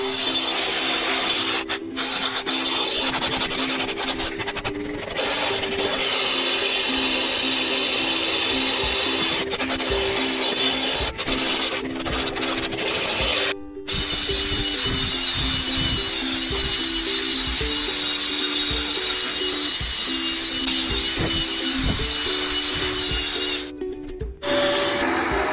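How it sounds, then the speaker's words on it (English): A vacuum cleaner runs steadily and loudly inside a heavily soiled, high-mileage Toyota Prius, its whine and roar shifting as the nozzle moves, with two brief cutoffs and no talk. "First thing to do is vacuum it."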